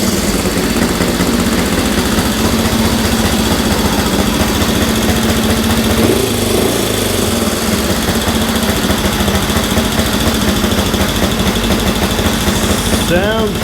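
A Honda CL77 305 Scrambler motorcycle engine runs steadily after a fresh start with the choke off, a loud close rapid putter that holds even throughout, with a voice heard over it.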